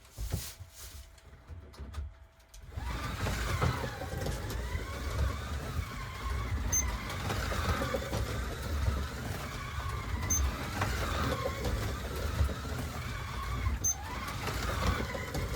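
A Scalextric Dodge Challenger slot car runs laps on its track. After a short quiet start comes a continuous buzzing whir with faint, regular clicks every few seconds as the car comes round.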